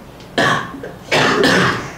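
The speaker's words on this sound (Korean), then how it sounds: "둘 다 왜 이렇게 기침이 심해 갑자기." Two sharp, loud coughs with throat clearing come up close, each a short raspy burst separated by a brief pause.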